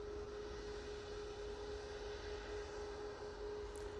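Airbus A380 jet airliner at Manchester Airport, a faint, distant engine hum with a steady whine running through it, level and unbroken for the few seconds heard, no voices.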